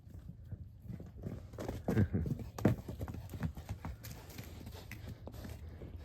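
A donkey's hooves clop unevenly on icy, snowy ground by a fence, a close run of soft thuds that bunch together midway, then scattered lighter steps.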